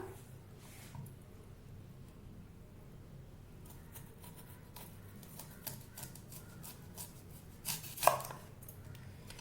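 A knife chops onion on a board for bhaji, making quiet, irregular taps that cluster toward the end and finish with one sharper, louder knock.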